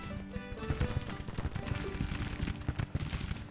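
Gunfire from Merritt's troops in Grand Tactician: The Civil War crackles as a steady patter of scattered musket shots, some close, others distant, layered over soft background music.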